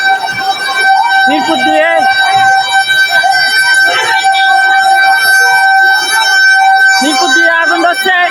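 A fire service vehicle's siren wails on a street in Mirpur, Dhaka, its steady tones blending with horns and crowd noise, while people talk loudly over it.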